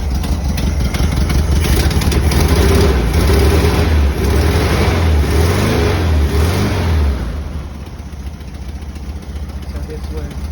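Rebuilt 1600 Volkswagen engine fitted with a new carburetor revs up in several rising and falling bursts over a steady loud idle, then settles back to a lower rumble near the end.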